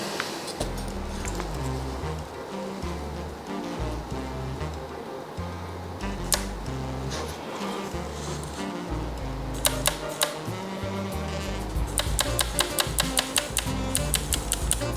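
The faulty shutter mechanism of a Sony A7 II camera, which fails to cock fully after a shutter replacement, is powered manually and produces dense, continuous mechanical clicking and ticking that grows into sharp rapid bursts toward the end. The sound is loud and close.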